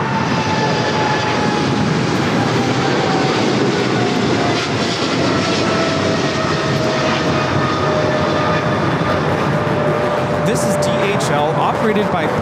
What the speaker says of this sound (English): Operated by Polar Air Cargo 992, taking off to Cincinnati on the 777 freighter.